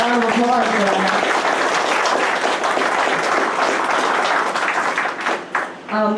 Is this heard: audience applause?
yes